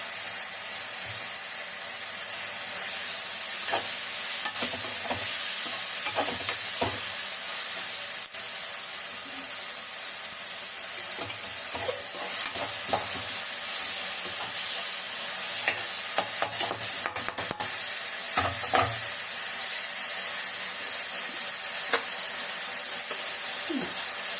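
Onions and tomatoes sautéing with salt in a pan, a loud, continuous hiss of frying broken by occasional scrapes and stirs throughout.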